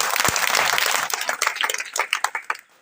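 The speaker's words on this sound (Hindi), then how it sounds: "इसके लिए जोरदार तालियां उसके लिए" Audience applause at a coaching center gathering, a loud burst of crowd clapping that thins into scattered individual claps before fading out.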